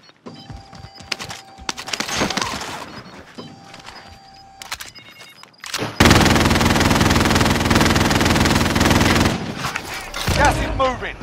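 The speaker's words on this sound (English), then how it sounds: "Friendly sentry gun online." A friendly sentry gun opening fire in Call of Duty: Modern Warfare, giving a loud, sustained mechanical stream of rapid shots after scattered gunfire and clatter, with voices heard in the surrounding action.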